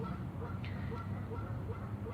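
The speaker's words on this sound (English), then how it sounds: "And the swans back again." Swans honk at a spring-equinox outdoor spot, giving a few short nasal calls, with one clearer call at mid-point over a low steady background, fairly faint and distant.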